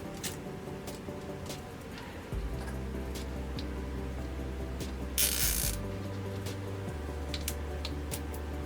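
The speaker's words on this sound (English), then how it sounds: "You'll want to take your pliers again and listen for it to click." Pliers tighten a small metal part on a vintage My Little Pony toy, producing a run of faint mechanical ticks and clicks with one sharper burst, heard up close over a steady low hum.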